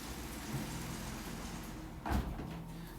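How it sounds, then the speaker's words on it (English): An indoor door is pushed shut with a single muffled thud and a brief clatter over a steady noisy room hum, close by and with no talking. "Let me just close the door."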